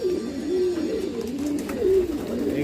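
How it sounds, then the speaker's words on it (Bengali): Breeding pigeons coo continuously while drinking from freshly given water, a low, rolling, warbling murmur close by that swells and dips without pause. "এইগুলো সব আমার ব্রিডিং পায়রা।"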